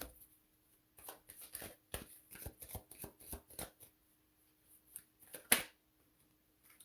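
Tarot cards shuffled close up in a quick run of crisp riffling bursts, a pause, then a few more flicks and one sharp slap, with quiet gaps between.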